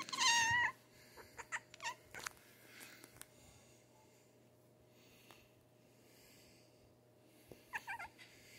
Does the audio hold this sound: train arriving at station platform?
no